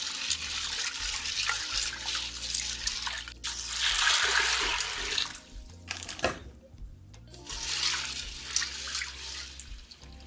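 Dried peas for Jamaican stew peas get washed in a pot, with bursts of rushing water and swirling, sloshing splashes coming in waves, broken by quieter pauses and faint background voice.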